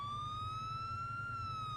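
A police vehicle's primary siren sounds during a vehicle check, as a loud, steady electronic tone that holds and slowly shifts in pitch over a low engine rumble, close by.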